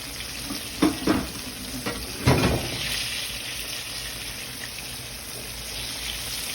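Chicken pieces frying in hot oil for chicken and waffles, a steady close hiss and crackle with a few louder knocks and shuffles early on as pieces go in, no talking.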